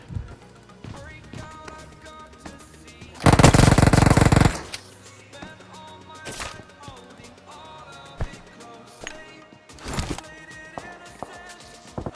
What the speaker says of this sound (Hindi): तभी मेरे को पीछे से गोलियां पड़ती हैं।